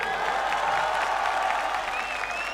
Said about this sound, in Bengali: কাজে ওর জন্য একটা জোরে হাততালি হোক।